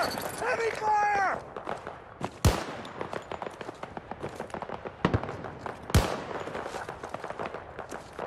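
Heavy gunfire in the shooter video game Battlefield 2042 erupts in two sharp, loud blasts amid scattered crackling shots and battlefield rumble, with a short electronic chirp near the start.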